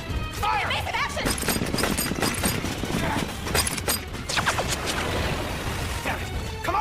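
Anime battle scene with a dense volley of gunfire, crashing impacts and shouted commands throughout, loud and continuous with voices mixed into the chaos.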